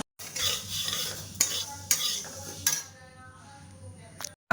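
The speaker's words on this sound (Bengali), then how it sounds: "মুগ ডাল করবো তো মুগ ডালটা একটু ভেজে নিই" Mung dal dry-frying in a pan while a spoon scrapes and stirs it, a steady close sizzle broken by several sharp clinks of utensil on metal, then a quieter stretch before a final knock.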